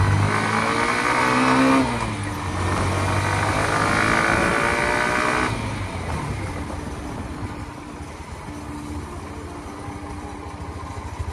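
A Hero Xtreme 125R motorcycle engine accelerates smoothly, its rising whine climbing through a gear change before easing into a steadier, quieter drone as the bike rolls on, loud and close with no voices.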